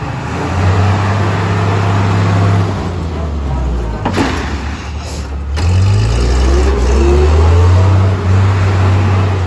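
Sakai T2 road roller with a six-cylinder Isuzu engine running nearby, a loud, deep, steady diesel rumble that swells as it revs midway through, with no one talking.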